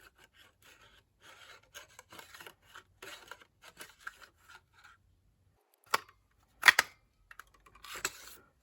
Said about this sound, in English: So now I need to punch out the gold foil shape.